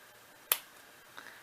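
A single sharp, crisp snap rings out as a thoroughly dried piece of blanched potato is broken, close and brief against quiet background, followed by a faint tiny crackle.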